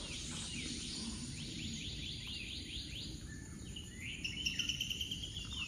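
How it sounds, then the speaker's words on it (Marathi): Birds sing beside lush green fields in a rural Konkan village, giving repeated high chirps and trilling calls, some farther off, over a soft steady outdoor hum with faint insects. "आवाज पण किती छान येते पक्ष्यांचा."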